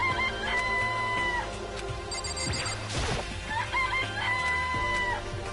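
Chicken coop sounds from Danganronpa Trigger Happy Havoc, with synthesized crowing and clucking phrases recurring twice over steady game music, separated by a short whooshing burst.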